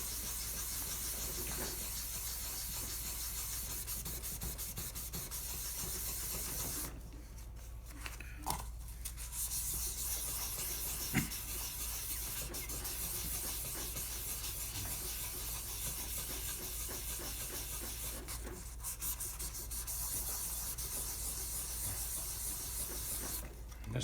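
Sandpaper rubbed back and forth over scratched plastic on a sewing machine body, a steady close raspy scrubbing that runs almost without pause, with a few brief breaks.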